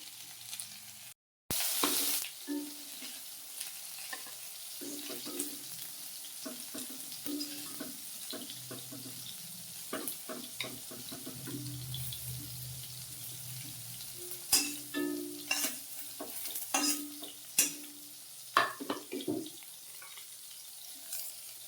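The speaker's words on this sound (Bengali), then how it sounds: "চলো করলাগুলো ভাজা হয়ে গেছে নামিয়ে নেবো" Bitter gourd slices fry in a pan with a steady, fairly quiet sizzle, broken by scattered clinks and scraping stirs that grow a little louder toward the end; no one speaks.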